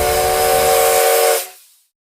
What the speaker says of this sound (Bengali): হঠাৎ দূরে একটা ট্রেনের আওয়াজ।